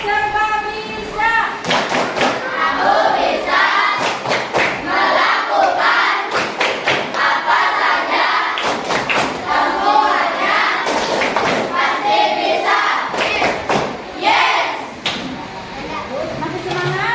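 Children in a classroom perform a rhythmic clapping chant, with repeated bursts of sharp, synchronized claps in set patterns, close and loud, interleaved with the group shouting the chant in unison.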